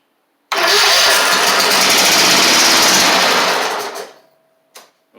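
A Toro Z2550 zero-turn mower engine cranks loudly and continuously for about three and a half seconds after being primed with fuel, then winds down to silence, with a faint knock afterward.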